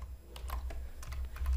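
Quick bursts of typing on a computer keyboard while entering a product code into a filter field, several light clicky keystrokes in uneven clusters, close and fairly quiet over a low hum.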